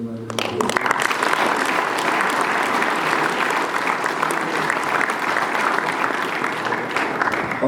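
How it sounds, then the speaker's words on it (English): A school assembly crowd applauds returning national league winners with sustained, dense clapping that starts abruptly and holds steady and loud throughout. "just give them a round of applause"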